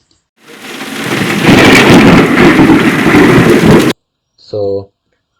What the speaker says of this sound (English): the sound of thunder, sorry, thunderstorm will start.